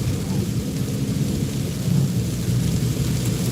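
Steady rain drums and hisses continuously during a night drive, a dense close wash of noise with deep rumbling low end, loud and unbroken.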